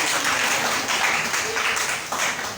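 Congregation clapping and applauding during a Sunday church worship service, a dense sustained wash of hands filling the whole stretch at steady loudness, with voices mixed in.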